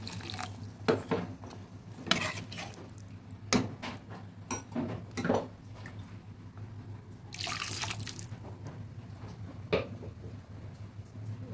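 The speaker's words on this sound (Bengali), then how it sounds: "ছোলা সেদ্ধ করা জলটাও দিয়ে দিচ্ছি।" Chickpea cooking water poured into a pan, with splashes and drips alongside a few sharp clinks and a brief louder gush, fairly quiet and close.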